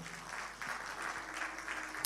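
A church congregation applauds at a moderate, steady level, the clapping sustained and fairly distant, with no voices over it.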